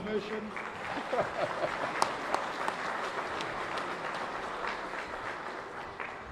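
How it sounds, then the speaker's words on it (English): Applause from the audience at an annual induction ceremony, a moderately distant, steady patter of many hands with a few sharper claps standing out, and murmured voices underneath. "Let's give him a round of applause."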